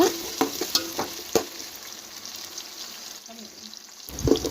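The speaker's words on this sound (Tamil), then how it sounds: "நறுக்கி வச்ச வெங்காயத்தை சேர்த்துட்டு நல்லா வதக்கிடுங்க" Chopped onions sizzle in hot oil with a few sharp stirring scrapes and clatters, the frying hiss fading quieter before picking up again at the end.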